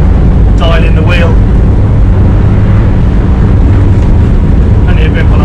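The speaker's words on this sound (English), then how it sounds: "Those twin stern drives offer efficient cruising. We're doing 85 litres an hour here at 27 knots," A Grandezza 37CA motorboat with twin stern drives cruising at speed: a loud, continuous engine and hull rumble mixed with heavy wind buffeting, under a voice speaking.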